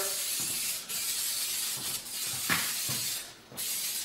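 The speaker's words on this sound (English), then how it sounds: "What I do hit it with is some of this canola oil spray" An aerosol can of canola oil spray sprays onto a turkey in long hissing bursts with brief pauses between them, close and steady.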